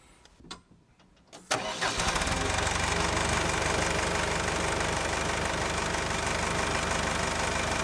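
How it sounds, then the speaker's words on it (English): ASV PT 100 forestry skid steer engine cranks briefly after a few quiet clicks, catches and settles into a loud, steady diesel idle that runs on alone. "let's start it up and see how it sounds"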